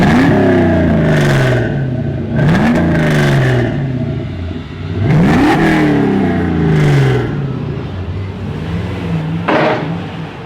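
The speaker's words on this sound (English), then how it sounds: "Let me show you guys how the exhaust sounds right now." A Volvo 740 fitted with an LS6 V8 engine revs through its exhaust in four or five sharp, close, loud throttle blips, each climbing and falling, before settling into a lower, rumbling idle.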